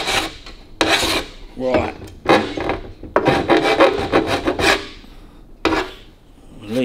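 A body file rasps along the edge of an aluminium panel on a 1932 Lincoln KA, loud close strokes in uneven bursts with short pauses between, and a single brief spoken word.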